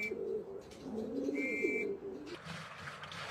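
Homing pigeons coo softly and repeatedly around their loft at dusk while a brief, clear whistle tone sounds partway through.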